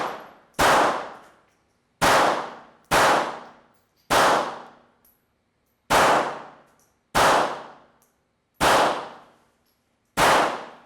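Eight sharp, loud pistol shots from a Beretta 84 Cheetah .380 fired outdoors at an irregular pace, each a hard crack with a ringing decay. Gaps range from under a second to nearly two.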